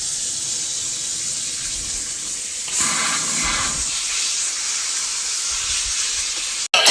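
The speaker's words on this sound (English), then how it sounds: "I am ready to wash and prep the figs for something cool" Steady hiss of tap water running into a kitchen sink while figs are washed, continuous and fairly loud, with a brief louder gush partway through and a sudden cutoff near the end.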